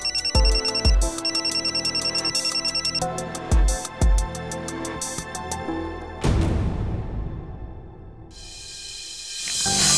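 A phone rings in repeated electronic bursts, loud and close, followed by a rush of broader noise toward the end.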